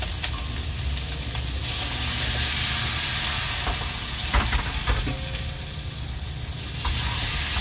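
Steady, loud sizzling of bánh xèo (Vietnamese shrimp crepe) batter frying in hot oil on a fishing boat, with a few scraping and clinking sounds of utensils partway through.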